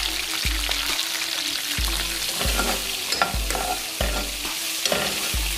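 A fish fillet fries in a pan, a steady loud sizzle with repeated scraping and stirring knocks from a utensil at roughly regular intervals.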